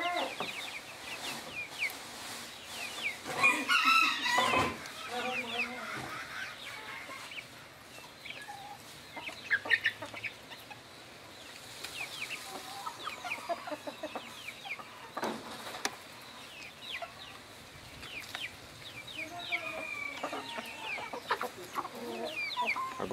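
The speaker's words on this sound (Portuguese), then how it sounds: "Dá uma olhada só que galinha linda aqui" A hen clucks repeatedly in a rural farmyard, with other chickens and soft background noise around her, the calls coming in scattered, moderately close bursts.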